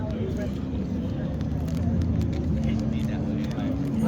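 A supercharged car engine of nearly 500 horsepower idles at an outdoor car show, giving a steady, deep rumble that holds evenly throughout at close range.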